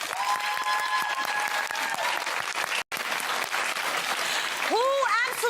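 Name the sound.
studio audience applause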